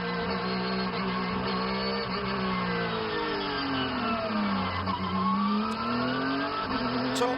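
Porsche Carrera Cup race cars roll through the end of a formation lap at Zhuzhou, engines droning and revving steadily with rising and falling pitch sweeps as cars pass, loud and continuous throughout.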